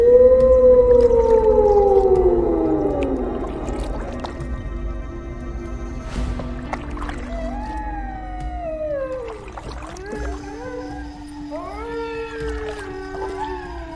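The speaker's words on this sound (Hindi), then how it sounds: "ये सियार कितनी डरावनी आवाज में चिल्ला रहे हैं।" Jackals howling and wailing at night near a village riverbank, long rising and falling cries overlapping from several animals, loud and eerie with no talk.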